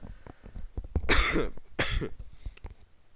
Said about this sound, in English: Sorry if I cough, I'm trying to basically getting out of a cold right now.